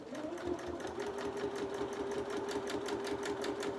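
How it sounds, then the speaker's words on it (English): A sewing machine runs steadily, stitching binding onto triangle bunting, with a continuous close whir and a rapid needle rhythm throughout and no pauses. "finish with the sewing of the binding on for the first pass"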